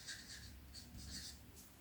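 Pen scratching out a short word on a paper bodice pattern, quick faint strokes in a few close bursts over a quiet room.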